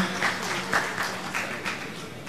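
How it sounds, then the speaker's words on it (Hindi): Audience applause at a poetry gathering of Urdu poets, a steady dense wash of clapping that holds fairly loud for about two seconds with no voices over it. "तालियां आप सब के लिए"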